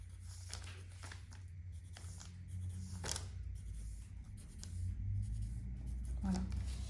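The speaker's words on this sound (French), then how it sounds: "vous allez ici tracer un petit pointillé pour reprendre finalement ce que vous allez devoir couper au niveau de la doublure." Pen or marker scratching a dotted line across jacket lining fabric, a series of short, soft strokes close by over a steady low room hum.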